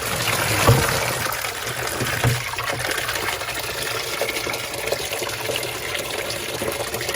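Water from a hose pours into a barrel during pond maintenance, a steady, close rushing splash that runs continuously with no talk.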